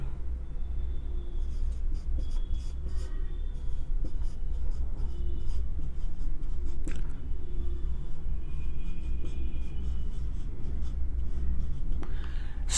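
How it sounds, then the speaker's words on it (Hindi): Chalk or marker writing on a classroom board, a run of quick scratchy strokes and taps in irregular bursts lasting several seconds over a low steady room hum, close and moderately loud with no talking. "पहला लिखेंगे हम"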